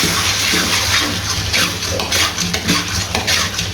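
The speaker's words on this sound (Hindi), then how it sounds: "भुनाई करने के बाद अब इसके अंदर 100 ml क्रीम ऐड करनी है और इसको इधर करते हैं अच्छे तरीके से मिक्स।" Cream is stirred into chicken karahi in a pan with a utensil, producing close, loud wet scraping and swishing strokes in a continuous, uneven rhythm, with no talking.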